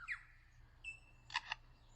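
A lyrebird in the forest mimics a camera shutter, giving a couple of short sharp mechanical clicks and a thin whistle-like tone, faint and isolated against quiet background.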